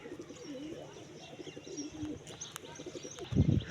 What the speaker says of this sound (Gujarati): બધા કબૂતરા આવી જશે શેણે ખાવા.